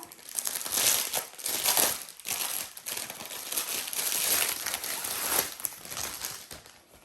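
Crinkly plastic packaging from a diamond painting kit being opened, a run of close, loud crackling and rustling bursts that rise and fall irregularly, with no voice over it.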